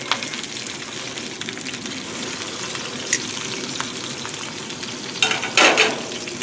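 The edge of a steak searing in a hot pan gives a steady, close sizzle, with a brief louder hiss and crackle flaring up near the end.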